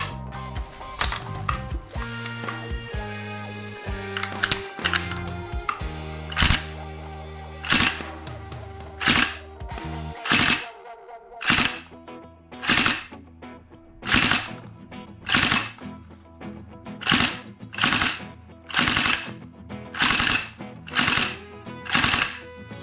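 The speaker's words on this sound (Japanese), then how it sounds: "マガジンの挿入はとても硬く、両手でしっかり保持しテーブを叩く必要があります。" Magazine-style gas tank being forced into a VFC M249 airsoft gun, a mix of dense mechanical clatter followed by a long series of regular, sharp, loud knocks as the gun is struck against a table.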